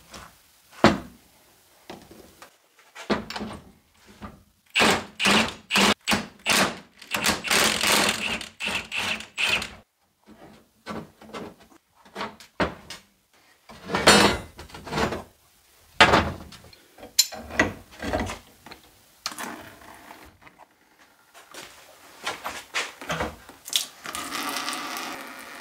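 Parts of a Toyota AE86 suspension being stripped down by hand: irregular close clanks, knocks and rattles of metal components in quick bursts separated by short pauses, with no talk.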